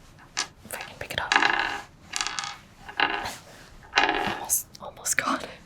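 D&D dice are fumbled and picked up by tiny hands in close ASMR style, giving several bright clicking and clattering bursts separated by brief pauses, with soft whispery breaths between them.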